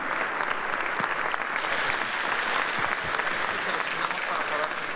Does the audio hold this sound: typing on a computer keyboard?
no